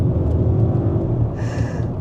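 A 2026 Audi SQ7 Vorsprung, a four-exhaust SUV, pulls away from near standstill in first gear on a clear road, giving a steady, loud low engine rumble that builds throughout.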